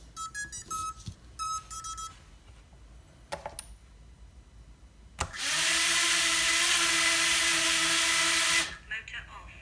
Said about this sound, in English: Here's how the motors sound with the 65mm props.